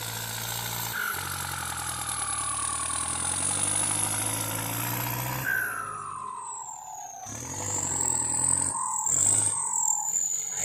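An old Ford farm tractor with a factory turbo runs close by at a steady idle, its low engine rumble topped by a high turbo whistle that rises and then dips.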